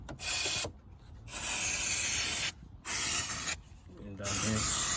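Brake cleaner sprays in repeated bursts while oil residue is cleaned off the 1.4 engine of a Seat Ibiza MK3 during a service: a loud, close hiss in several seconds-long blasts with short pauses between.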